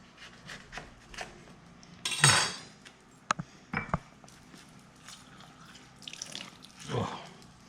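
Apple cider vinegar and lemon juice poured for a homemade BBQ rib sauce, a short splashing pour with clinks of utensils and containers nearby, fairly quiet and without talking.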